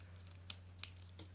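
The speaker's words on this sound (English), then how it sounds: "Now these are my actual nail scissors." Small nail scissors snip close by in a quiet room, two crisp clicks about a third of a second apart followed by a softer third cut.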